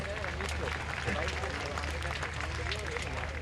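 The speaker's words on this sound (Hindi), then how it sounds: "अगर आपके दो दो हाथ है तालियां बजाए।" Sustained audience applause at a Pakistani comedy show in Karachi, a steady, moderately faint patter of many hands with crowd noise and voices mixed in and a low constant hum beneath.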